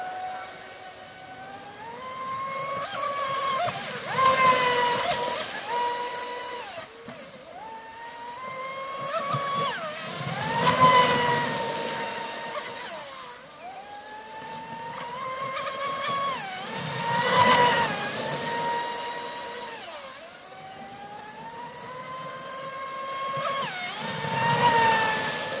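A Traxxas Oxidean Dominator 6s RC speedboat running at speed on water, its high electric motor whine rising and falling in repeated sweeping passes as it accelerates, turns and speeds off again, loud and continuous.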